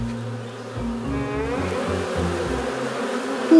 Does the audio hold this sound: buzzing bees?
yes